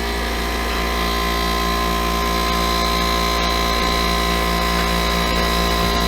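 An air conditioner's compressor runs alone while its condenser fan motor stays dead. The result is a loud, steady electrical hum and drone, unbroken throughout and heard up close.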